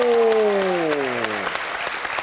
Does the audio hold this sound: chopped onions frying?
no